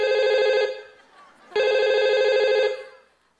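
A cellphone rings loudly in two long bursts of a bright, steady electronic tone, with a short pause between them and silence after; no one speaks over it.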